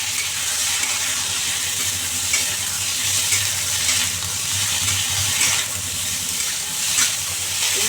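Broccoli, soaked beforehand in hot salted water, frying in a pan for a fish curry, a steady close hissing sizzle with light stirring and occasional sharper spits.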